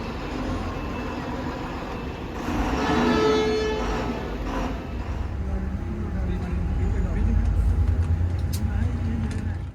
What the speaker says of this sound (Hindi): इसके बाद फिर ठीक 6 बजे हमारी बस अपने निर्धारित समय पर यहाँ से कटरा के लिए रवाना हो रही है।